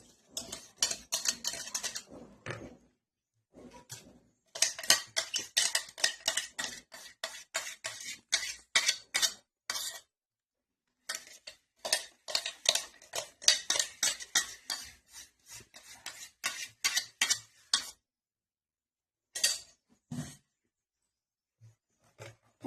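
A spoon beats banana cake batter in a bowl with rapid, clattering scrapes against the sides, in bursts that stop now and then before starting again.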